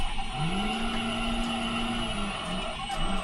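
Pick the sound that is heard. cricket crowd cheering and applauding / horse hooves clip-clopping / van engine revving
van engine revving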